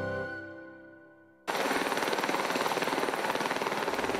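After a sustained musical tone cuts off, a loud helicopter bursts in close by over the Dolomite Mountains, its rotor beating fast and evenly with a roaring engine.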